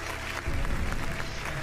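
Brief burst of applause from a game-show studio audience in the German Wer Wird Millionär video game, a soft crowd clap swelling in after a short pause and holding steady at moderate volume.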